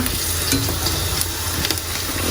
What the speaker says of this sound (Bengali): মেয়ের জন্য এখন পাঁপড় ভেজে দিতে হবে